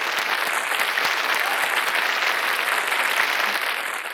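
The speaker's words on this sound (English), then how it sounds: "Please join me in giving them a huge round of applause." Sustained applause from an audience at a live event, honouring a judging panel: a dense, even wash of many hands clapping that carries on for the full few seconds before easing slightly.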